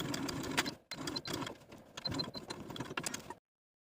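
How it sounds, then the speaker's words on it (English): A sewing machine runs in close, rapid stitching bursts along a placket edge, pausing briefly once and then stopping abruptly into silence. "Sew along that raw edge of the placket and over the top folded edge using a 1/2 inch seam allowance."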